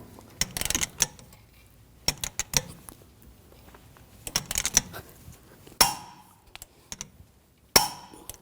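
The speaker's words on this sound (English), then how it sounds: "And we're going to torque this nut to 310 foot-pounds." A wrench tightens the rear hub nut on a 2007–2013 BMW 328i to high torque, producing close, sharp metallic clicks and clinks in short uneven bursts with quiet gaps between.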